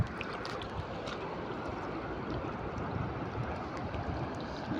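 Dangerous flash flood water rushing after heavy rain, a constant low roar and churning wash, steady and fairly distant with no voices.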